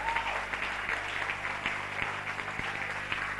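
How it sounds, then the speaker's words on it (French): A church congregation applauds in acclaim of God, a steady wash of clapping that sits moderately close and fills the space, with a few sharper claps standing out and a faint tone briefly at the start. "Des acclamations au roi des rois."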